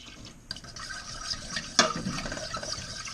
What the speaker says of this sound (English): So we're going to start adding some milk here to this roux.